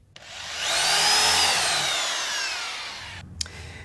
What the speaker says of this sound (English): drill a central hole for the safety rope